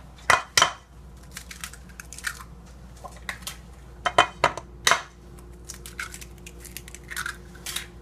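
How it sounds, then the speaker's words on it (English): Three whole eggs are briefly whisked in a bowl with vanilla extract for a sugar-free blueberry coffee cake. A utensil gives sparse, irregular clinks and taps against the bowl over a quiet kitchen background. "so I will whisk it just a little bit, like that"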